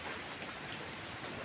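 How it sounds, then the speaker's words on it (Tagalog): Rain falls steadily during a sunshower, making a constant, dense hiss of drops striking surfaces throughout, fairly loud and with no voices or other sounds. "Umuulan siya pero"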